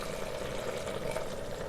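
Hot water is poured from a glass into mutton cooking in a pressure cooker, a soft, steady trickling pour heard faintly and continuously with no talking.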